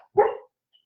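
Granite, a dog asleep and dreaming, lets out a single short, soft muffled bark-like yip, close by in an otherwise silent room.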